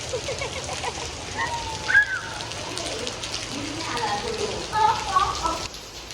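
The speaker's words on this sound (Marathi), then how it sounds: "खूप सारा पाऊस आलेला आहे" Heavy rain falls during a Dahi Handi festival gathering, a steady wet patter beneath a voice talking and chirping birds.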